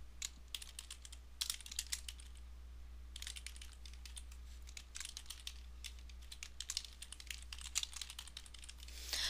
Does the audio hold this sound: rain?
no